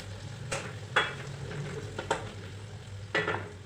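Onion frying in oil with a little cumin for a mushroom curry: steady soft sizzle with several scraping stirs of a utensil against the pan, close and alone.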